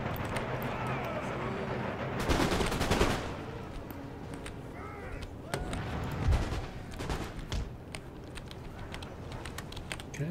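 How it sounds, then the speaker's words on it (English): Massed musket volleys crack in the Empire Total War video game, a sharp loud burst followed by scattered shots and background battle noise, with faint talk beneath. "Massed firepower against irregular troops."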